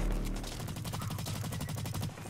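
Submachine gun in the Blacklight Retribution shooter firing a sustained rapid burst, loud and close, a dense rattling stream of shots with no talk over it.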